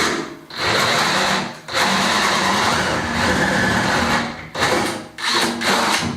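A power drill whirs in long continuous bursts with brief pauses between them, close and loud.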